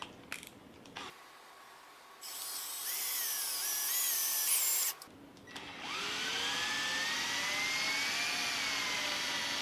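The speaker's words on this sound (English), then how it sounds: "we're going to use a 1/4-inch drill bit to drill a hole for a bolt" A power drill with a 1/4-inch bit bores a hole into a rubber-cored golf ball, two whining bursts of motor and grinding bite several seconds each, separated by a brief stop, close and loud.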